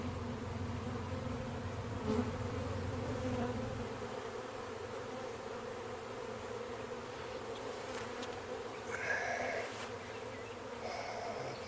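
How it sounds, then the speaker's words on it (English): A steady, droning hum of a honey bee swarm buzzing in the air fills the scene, close and continuous, with a few individual insects passing louder. "There's a lot of bees in the air."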